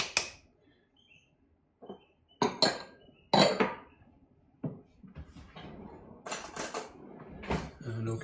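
Almond flour, cocoa, monk fruit sugar and baking powder mixed in a bowl, a few sharp utensil clinks and scrapes against the bowl, separated by quiet gaps, with brief faint voice sounds.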